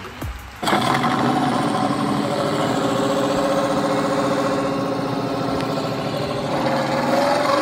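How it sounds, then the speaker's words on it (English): A Volkswagen T2 pickup's engine runs steadily at a hill-run competition, a loud, close, continuous mechanical drone with an even rhythm that holds for the whole stretch after a brief opening burst. "Taking on the hill next is Team Volkswagen T2 pickup, driven by Elongated Muskrat and Diecast NZ."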